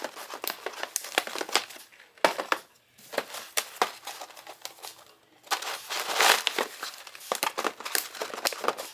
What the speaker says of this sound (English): So let's drop a 300cc O2 absorber in each bag. We'll go ahead and zip that shut.